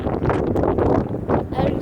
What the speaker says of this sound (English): As you can see, it's very windy outside.